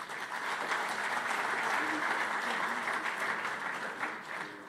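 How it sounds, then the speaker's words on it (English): Audience applause at an international policy summit, an even, sustained round of clapping from a large crowd that tapers off at the end. "Give her a round of applause."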